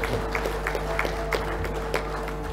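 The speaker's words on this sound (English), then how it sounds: "can we please have a round of applause for our winners as they make their way up again" Audience at a Fiji football awards evening applauding winners, scattered claps rising and falling over a steady low hum in a large hall.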